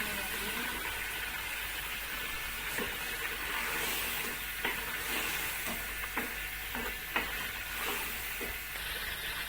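Ridge gourd frying with beef in a pan, a steady sizzle and hiss with a few sharp clinks and scrapes of stirring scattered through, fairly close and continuous.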